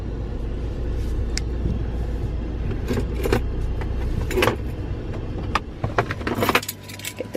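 Car keys for a Ford Shelby GT350 jangle in several quick bursts over a low, constant rumble, growing busier and louder toward the end.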